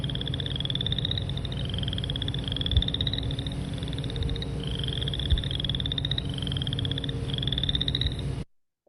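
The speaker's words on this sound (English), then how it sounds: "Boreal chorus frog, like running your, fingernail over the teeth of a comb." Boreal chorus frogs call again and again with rising, comb-like trills, one after another over a steady low background hum, fairly close.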